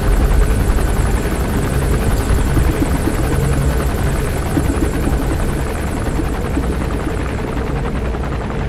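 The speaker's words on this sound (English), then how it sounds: "Wait, is that the helicopter heading back?" A helicopter in the video game Metal Gear Solid 5 flies overhead with a loud, continuous rotor chop and engine roar that stays steady and close throughout.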